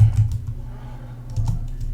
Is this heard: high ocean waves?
no